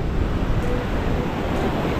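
Sea waves at the shore give a brief, low rumbling wash mixed with gusty wind buffeting the microphone, continuous and close, with no voices.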